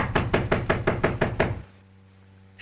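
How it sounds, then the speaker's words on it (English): Eight loud, firm knocks on a door land in a fast, even rhythm, then give way to a quiet, low hum. "a very unfriendly knock"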